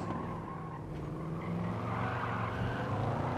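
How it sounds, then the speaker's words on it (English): Nissan Silvia S13 drifting in Gran Turismo 7, a steady, loud engine drone with a sustained tire squeal and skid layered over it, continuous for several seconds with no talking. "Oh, drifting a little bit there, guys."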